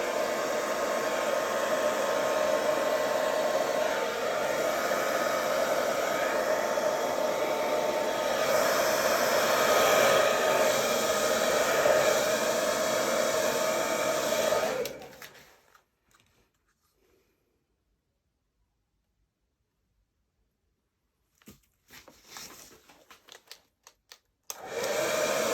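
A steady hair-dryer-like blast of air pushes poured acrylic paint across a Dutch pour canvas, loud and continuous for about fifteen seconds, then silence, then brief irregular gusts returning at the end.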